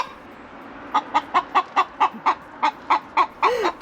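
Chickens clucking in a backyard coop in a hillside Los Angeles neighborhood, a steady run of a dozen short, evenly spaced clucks, fairly close and clear over a quiet background.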